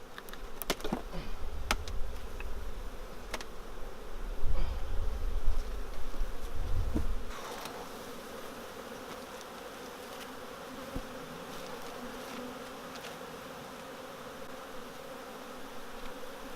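Honeybees swarm around an open beehive, a constant close, droning buzz that swells louder for the first several seconds with rustling handling noises, then settles into a softer steady hum.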